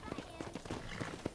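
Rapid rhythmic hoofbeats of a galloping horse in the video game Red Dead Redemption, quick and close, with a voice mixed in over the clatter.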